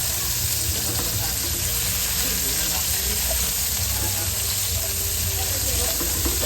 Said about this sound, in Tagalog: At saka tayo magigisa ng bawang sibuyas.